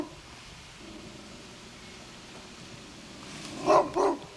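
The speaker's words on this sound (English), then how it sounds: "And the neighbor's dog." A neighbour's dog gives two close barks near the end, loud against a quiet, faintly rustling background.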